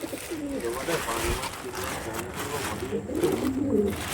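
A Nagerkoli pigeon of a prized bloodline gives low, throaty coos, repeating in short rolling phrases at close range amid steady background noise.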